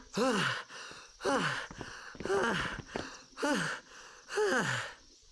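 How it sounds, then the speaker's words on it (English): Final Fantasy X character panting after a battle: five loud, evenly spaced breathy gasps with falling pitch, each followed by a short pause. "Why are you panting?"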